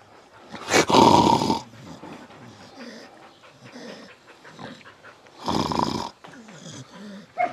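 Dogs growl, snarl and pant during an attack, with two loud bursts of snarling separated by lower rumbling growls and heavy breathing, close by and without talk.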